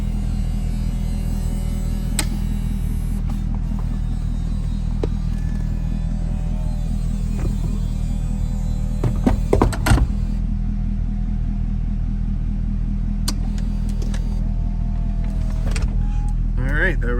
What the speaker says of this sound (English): we'll put the top up so you can see the operation